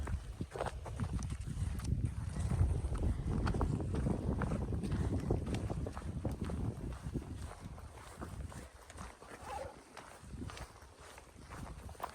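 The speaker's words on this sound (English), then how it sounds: "It's a lot more exposed in this section now. You can feel the wind." Wind blowing across an exposed section of the Foothills Trail, a steady low rumble buffeting the microphone, with footsteps on the trail and faint rustling.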